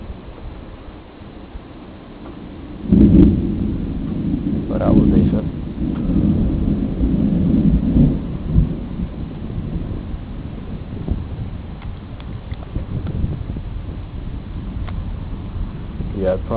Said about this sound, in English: I'm surprised the thunder isn't any louder than what it is with this sharp lightning